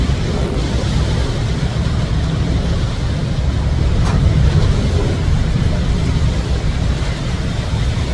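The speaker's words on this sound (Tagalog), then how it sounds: "Grabe, napakalakas ng hangin." Strong, roaring wind at a coastal surfing campsite in Quezon during the amihan season, a loud continuous rumble battering a house at night, with no voices.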